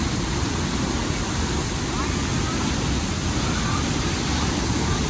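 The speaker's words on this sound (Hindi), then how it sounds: "और पानी का प्रेशर आप देख सकते हो कितना ज़्यादा तेज़ी से आ रहा है।" Rushing water pours loudly at Devi's Fall, a waterfall in Nepal cutting through a deep rock gorge, a steady broadband roar that fills the whole clip without a break.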